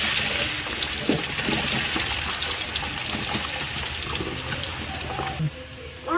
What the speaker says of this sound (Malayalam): അപ്പോൾ നമ്മൾ ആദ്യം കുറച്ച് ഓയിൽ ഇങ്ങനെ ഒഴിച്ചു കൊടുക്കുന്നുണ്ട്.